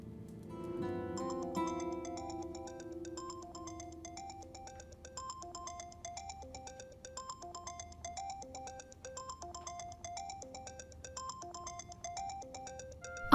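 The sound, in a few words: phone ringtone, incoming call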